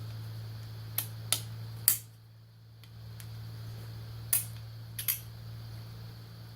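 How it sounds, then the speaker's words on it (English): Four-millimetre cover bolts coming out of an MXUS 5K-Turbo electric hub motor, heard as a handful of sharp, faint metallic clicks scattered irregularly over a low steady hum in a quiet room. "First I'm going to pull out these cover bolts, 4 millimeter bolts."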